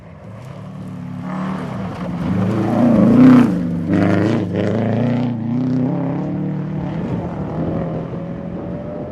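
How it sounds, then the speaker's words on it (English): A rally car on a gravel stage at the 2012 Oregon Trail Rally blips its engine on a throttle stab while turning into a corner. A loud passing engine note swells, peaks and fades with wind noise. "You can hear what I was talking about earlier with the throttle stab, like right there as he's getting the car to turn in"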